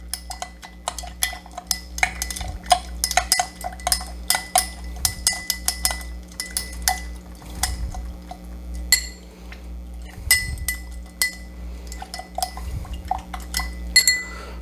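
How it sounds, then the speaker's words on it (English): A spoon stirs a mojito with granulated sugar in a glass, giving rapid bright clinks and scraping against the glass in quick irregular bursts, fairly close and with no talk. "Give that a good stir so we can mix up all that granulated sugar"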